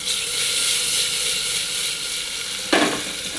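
Tomatoes hit a hot pan of mixed vegetables and potato, setting off a steady, close hiss of sizzling, then a sudden louder burst of crackle near the end.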